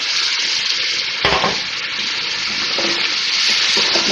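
Whole spices, crushed nutmeg and mace among them, frying and sizzling in a pan right after a splash of mutton yakhni stock is added for an Eid dawat dish, a steady loud hiss with a brief burst of bubbling and stirring near the start.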